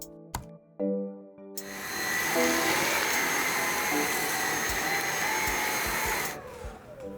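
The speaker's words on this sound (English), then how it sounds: "Vacuum the floor." A vacuum cleaner runs steadily and loudly across a floor for several seconds, starting after a couple of sharp clicks and cutting off near the end.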